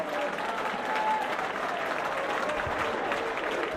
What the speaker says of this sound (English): and a good round of applause.